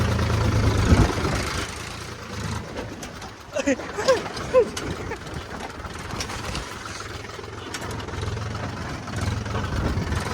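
A tractor engine drones low and steady during a torrential downpour while farmland is being ploughed, the hum rising and falling with voices speaking over it and birds cooing briefly.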